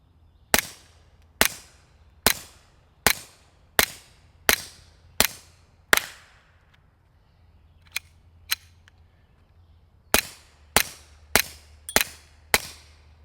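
A Retay RXP22 pistol fires Remington .22 Subsonic rounds: eight sharp, loud cracks at a steady pace, a pause broken by two faint clicks, then five more close shots, with no talking.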